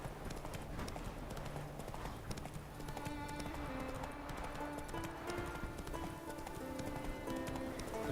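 A horse's hooves clip-clop steadily in The Witcher 3: Wild Hunt while the horse is ridden, a regular rhythmic trot set under continuous game music and ambience.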